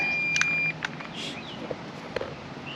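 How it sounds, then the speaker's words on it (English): Electronic beeper on a newly installed winch chirping during a test, a few short bright beeps early on, then sparser faint blips over a low background hum. "you can test it and it'll beep."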